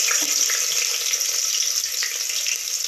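Whole cloves, cardamom and cinnamon fry in hot oil for a beef korma, giving a close, steady, bright sizzle and crackle with no voices.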